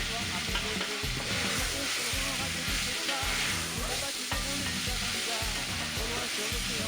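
Beef curry with carrots and potatoes frying in a pot, a loud steady sizzle under rhythmic scraping strokes of a spoon stirring the meat, close and continuous.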